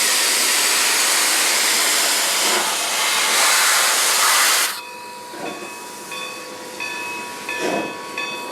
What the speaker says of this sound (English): Our train is departing Vivian Park